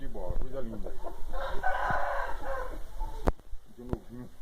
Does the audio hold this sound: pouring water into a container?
no